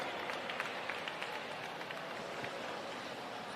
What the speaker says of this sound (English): Round of applause for our fastest 4 and our New Zealand record holder, Brianna Crawford.